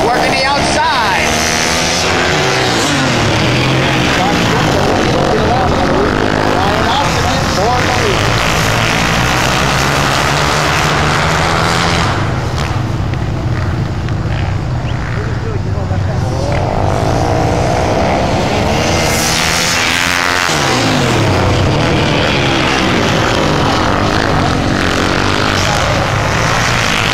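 Race cars running side by side on the Sturbridge track in turns three and four, a loud continuous engine roar with sweeping passes rising and falling, under an announcer's commentary.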